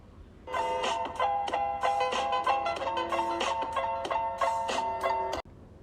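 Instrumental hip-hop beat with a repeating bright piano-like chord riff over steady drum hits, loud and continuous, ending abruptly.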